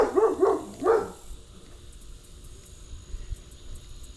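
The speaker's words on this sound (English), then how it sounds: "lots of barking dog all of a sudden" Outdoors by the water after rain, a dog barks twice in quick succession at a moderate distance, sharp and loud, then only faint background ambience remains.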